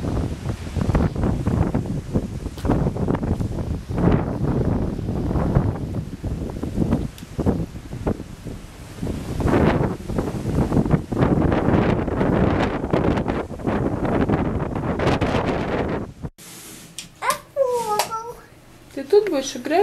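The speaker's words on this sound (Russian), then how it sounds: "ветрюган такой, мне кажется, что их, блин, вырвет ворота, если их не закрыть. Такое дует сильное." Strong gusty wind roars outdoors, buffeting the microphone in loud, uneven blasts for a long stretch before cutting to a quieter scene, with people talking throughout.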